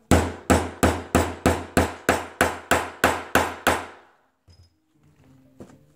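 About a dozen loud, sharp hammer strikes setting an eyelet into a typewriter ribbon, in a steady rhythm over four seconds, then quiet with a few faint handling noises.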